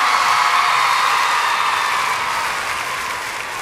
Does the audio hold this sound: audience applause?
yes